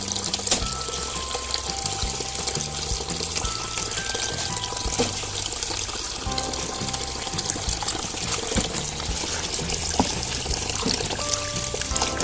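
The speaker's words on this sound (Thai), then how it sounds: "ล้างให้สะอาดเพราะเรากินสดนะครับผม" Water running steadily while fresh vegetables are washed, a continuous trickling and pouring stream close by with small splashes and clinks, no voices.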